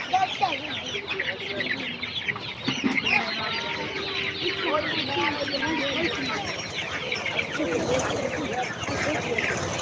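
Chickens cluck continuously and close by among a crowd at a busy open-air market, their overlapping calls rising and falling over steady background bustle, with people talking faintly underneath.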